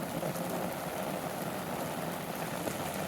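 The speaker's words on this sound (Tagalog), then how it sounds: "ang liwanag ng langit pero ang lakas ng ulan" Heavy rain pours outdoors over a bok choy garden, a dense, steady hiss of drops drumming on surfaces with no letup, close and loud throughout.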